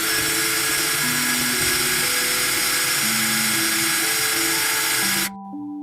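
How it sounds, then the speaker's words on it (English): A steady high-pitched whine of a power drill boring a hole into wood runs continuously for several seconds, close and fairly loud, then cuts off abruptly. "using a drill, I'm going to drill a hole"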